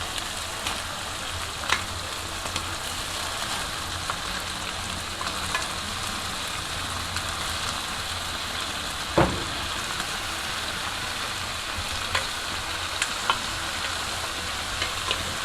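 Shrimp sizzle in a frying pan, a loud, continuous, close-up hiss and crackle with a few brief clacks of stirring or utensil contact scattered through it, and no talking.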